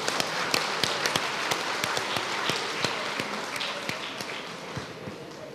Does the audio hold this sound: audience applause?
yes